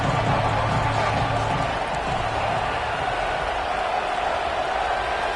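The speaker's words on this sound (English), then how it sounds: "3rd down and the crowd really getting into it" A football stadium crowd on third down roars as one continuous, distant wall of cheering and noise.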